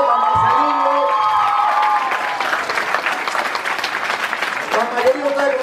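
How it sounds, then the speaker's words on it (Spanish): Loud, lively applause and cheering from the crowd at a children's party, sustained clapping with shouts and whoops over a voice that trails off at the start. "Un aplauso a Marcelino"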